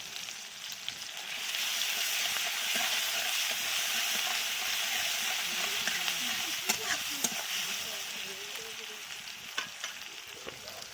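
Garlic paste, ten to twelve cloves ground up, sizzles and fries steadily in a pan, a continuous bright crackle with occasional stirring scrapes, no talk.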